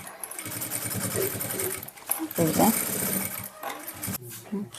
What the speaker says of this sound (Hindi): एक और सिलाई हम यहाँ एक पैर का मार्जिन छोड़ते हुए आराम आराम से हम यहाँ भी चला देंगे